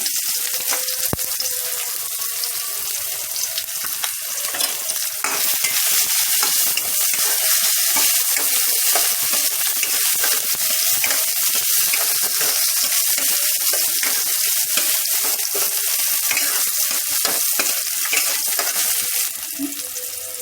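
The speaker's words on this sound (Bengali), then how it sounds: "পেঁয়াজটা ভালো ভাজা হয়ে গেছে" Onions fry in oil in a wok, a loud continuous close sizzle with occasional stirring scrapes running steadily throughout, cooked before ginger and spices for a rohu fish and taro curry.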